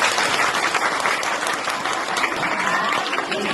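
Loud, sustained applause from a religious gathering's audience, dense clapping throughout with no let-up, no voices standing out.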